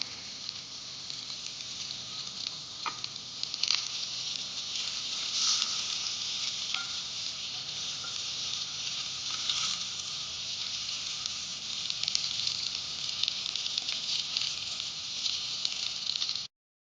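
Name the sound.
okra masala fry sizzling on low flame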